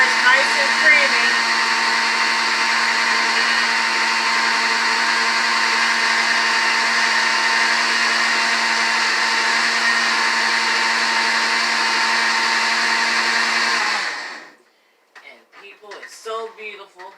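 A blender runs continuously with a loud, steady whine while blending a pineapple energy shake. It then winds down and stops, and a person starts talking afterwards.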